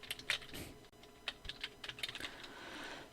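Text being typed on a computer keyboard, a close, irregular run of crisp key clicks in short bursts with brief pauses between them, with no talking.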